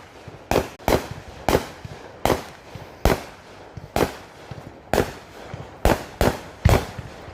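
Fireworks going off outdoors in a steady run of sharp cracking bangs, about a dozen evenly spaced pops roughly every half second, moderately loud and close with no talk.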